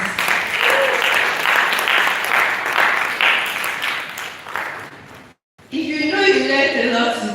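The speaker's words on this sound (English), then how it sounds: "please a round of applause." An audience claps steadily for a health initiative panel, broad sustained applause lasting about five seconds, then a brief silence and a voice speaking afterward.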